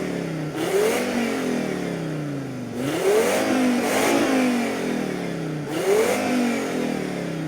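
A 2000 Lancia Kappa 2.4 20V five-cylinder engine revs up three times in close succession, each blip rising in pitch, briefly holding a throaty growl, then falling back to idle.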